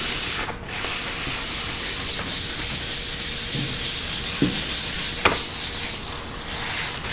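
A cured resin pour surface being sanded, giving a steady, close abrasive rubbing hiss with faint scraping strokes that runs continuously for about seven seconds.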